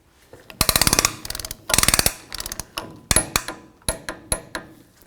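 A socket ratchet clicks in quick bursts while adjusting the rear axle of a 1999-2007 Ford Super Duty F-250, several rapid ratcheting runs followed by slower single clicks, close and crisp with no talk.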